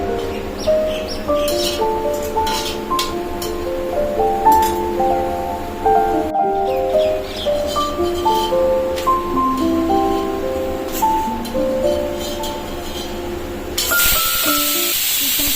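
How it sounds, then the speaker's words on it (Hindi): Many birds chirp and tweet steadily outside a kitchen window in hot summer weather, a dense layer of overlapping calls at moderate distance that continues throughout, with a burst of hiss near the end. "के विंडो से चिड़ियाओं की आवाज़ तेज़ तेज़ आ रही होगी,"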